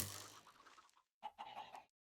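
Chickens cluck in Minecraft, two short bursts of game-style fowl clucking separated by a brief silence, close and clear with no talk.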